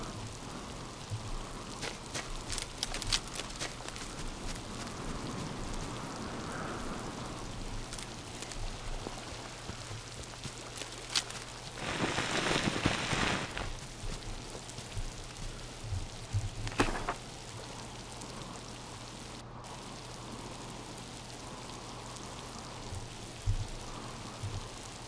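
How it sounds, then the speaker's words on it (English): Rain falls steadily in the video game Miasmata, a soft, even patter over a low hum, with a brief louder splashing burst midway and scattered faint ticks and drops. "There's something therapeutic about the sound of rain."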